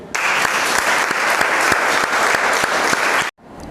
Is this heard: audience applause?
yes